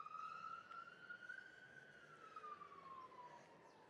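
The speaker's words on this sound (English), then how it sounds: "Oh, fire engine. It's a fire brigade. Going to a fire." A British fire engine's siren sounds along a nature walk route, a steady rising and falling wail heard at moderate distance over background traffic for several seconds, without voices.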